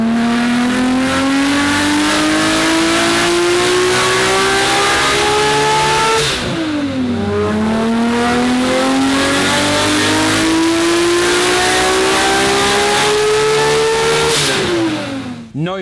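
A Nissan RB engine of over 1100 hp, fitted with Splitfire ignition coils, revs loudly in two long, steady climbs, each dropping back sharply before rising again, heard close and alone.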